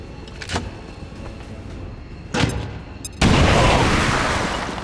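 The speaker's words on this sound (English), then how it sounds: "not before launching a grenade at that lone trooper that we saw earlier" A grenade launched at a lone trooper in the XCOM 2 video game: a couple of muffled thuds precede a loud, close blast that rolls into a sustained rumble, with no talking.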